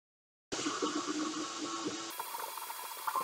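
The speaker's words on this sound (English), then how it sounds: "The loudest noise you hear is the fan motor running to keep the filament at the right temperature." A Qidi X-One 3D printer runs its cooling fan motor while printing PLA, a steady, fairly quiet whirring hiss that starts abruptly after half a second and continues evenly, with no talking.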